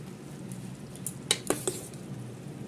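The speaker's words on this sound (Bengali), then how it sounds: "তো এখন আমরা ভাতটা দিয়ে দেবো বন্ধুরা" Cooked rice being added to chicken biryani in a wide kadai, heard as a few quiet, sharp utensil clinks against the pan in quick succession over a faint, low kitchen background.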